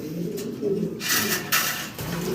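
Caged pigeons at a farm coo low and steadily throughout, close at hand, with brief bursts of rustling noise breaking in over the calls.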